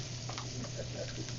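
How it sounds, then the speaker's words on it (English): Chopped onions sizzle steadily in a hot pan, a constant close frying hiss with faint stirring scrapes, and a voice murmurs faintly underneath. "So I'm going to saute my onions."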